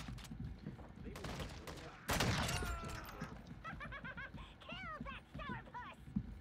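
Call of Duty gunfire rattles in short bursts, with a loud volley in the middle, amid chirping game effects and someone talking.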